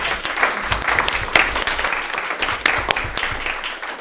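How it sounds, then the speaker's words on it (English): An audience claps in a dense, lively burst of applause that holds steady for several seconds, loud and close, with no voices over it. "let's give her a round of applause"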